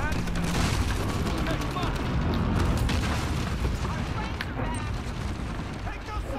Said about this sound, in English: why are you shooting your RPG that close?